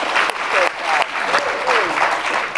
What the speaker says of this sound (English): that was a very tepid applause for Bryan Stevenson